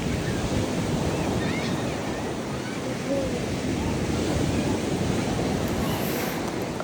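Sea waves wash continuously at a seaside campsite, a steady broadband surf roar with some wind noise, close and fairly loud throughout with no pauses.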